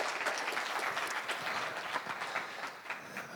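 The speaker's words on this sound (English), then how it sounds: "Let's give Mr. Kloko a big round of applause" Audience applause at a live event honoring Mr. Kloko, a steady dense wash of many hands clapping throughout, moderately distant and sustained without pause.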